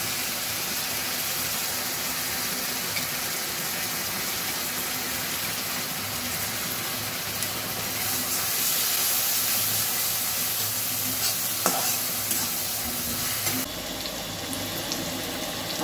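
Onion paste frying in a pan over already-fried ground spices, green chilli and chopped onion, cooked for a katla fish head and kham potato curry; a steady, loud, broad hiss runs throughout with no talking.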